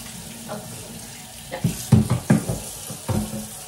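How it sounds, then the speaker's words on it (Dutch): Running water from a kitchen tap, left to warm up before a hand-wash, hisses steadily with a few louder splashing bursts near the middle, close by and without talk. "Even het water warm laten worden."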